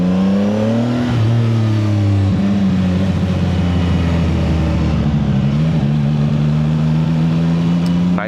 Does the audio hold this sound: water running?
no